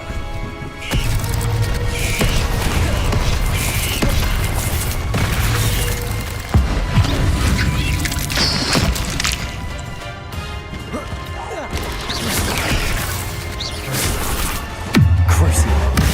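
Spell combat in Hogwarts Legacy, where the fire spell Incendio is cast among other spells, brings repeated whooshing blasts, crashes and booming impacts over a dense, continuous wash of battle noise.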